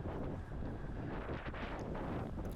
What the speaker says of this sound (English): So it's pretty windy out there today.